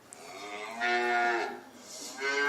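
A cow moos from an iPad app in two long, drawn-out calls, clear and close, with a short pause between them and no talking.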